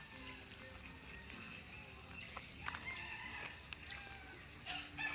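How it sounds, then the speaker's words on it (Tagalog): Chickens at a hillside chicken coop near a quarry path, with scattered faint clucks and a crow or two over steady outdoor ambience and wind, some distant voices faintly in the background. "ito na yung manukan"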